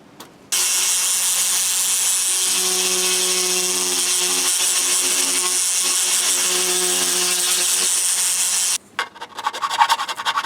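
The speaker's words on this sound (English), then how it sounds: "I'm starting out with my large sanding cone" A loud, steady rotary grinding whine from a large sanding cone on a scale model AT-ST head runs nearly unbroken, then cuts out near the end, leaving short bursts of scraping.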